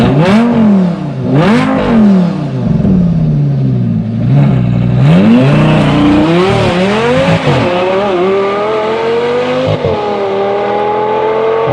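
Supercharged Lamborghini LP560 engine revs hard again and again, loud and close, with rising and falling pitch sweeps and sharp blips throughout, alone without talk.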